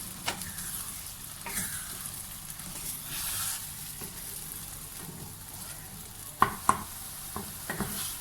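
Egg omelette cooking in a hot pan, its edges pushed inward as it sets: a steady soft sizzle with scraping stirs, and a few sharp utensil clicks against the pan near the end.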